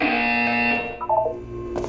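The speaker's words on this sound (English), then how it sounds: "You will hear a buzzer. When you hear the buzzer, look up at the ceiling." A harsh electronic buzzer in the video game Portal 2 blares as a loud, steady, distorted tone that wavers and drops away within about two seconds, heard alone.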